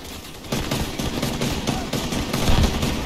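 Video-game gunfire tearing into an enemy: rapid, loud automatic shots hammer in a continuous burst, dense and close, with no talking over them.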